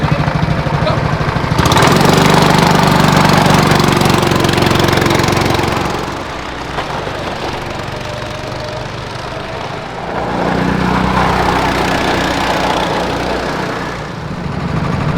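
Go-kart engines at Rally Legend in San Marino run loud and close for the whole stretch, a steady buzzing drone that rises in intensity after a couple of seconds, eases midway, then swells again.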